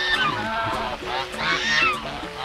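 Geese honking after a feeding, with ducks nearby, a flock giving overlapping, harmonic calls that rise and fall fairly close, continuous through the stretch with some background murmur.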